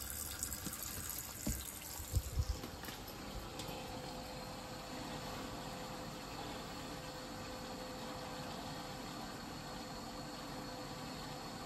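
A gas boiler runs with water flowing from a tap, a steady broadband wash of running water and low mechanical hum throughout, with a few brief knocks near the start.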